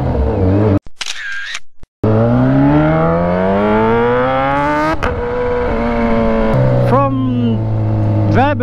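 Kawasaki ZH2 motorcycle engine revving hard in repeated climbing pulls, loud and close, with brief cut-outs between blips and people talking over it nearby.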